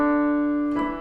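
Piano scale played with both hands together, caught at the tail end as a sustained note rings, then a soft new note enters near the end; close and clear with no talk.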